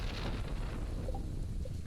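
Steady rain and rolling thunder from a summer thunderstorm in the video game Stardew Valley, a continuous loud wash with a low rumble and no talking.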